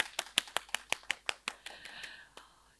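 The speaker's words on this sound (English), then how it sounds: "let's give ourselves a huge round of applause for going this far" A short burst of hand clapping from quiz competition participants, a quick run of sharp claps that thins out and fades within a few seconds.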